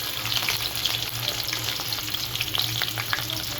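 Onions frying in oil with cardamom and cinnamon, a close, steady sizzle broken by light scraping and stirring clicks.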